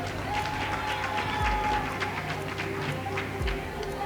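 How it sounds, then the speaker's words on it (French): An audience applauds a student quiz team at a school quiz competition between a lycée and a collège. The clapping is loud and steady, mixed with crowd noise and a few low thumps. "on l'applaudit"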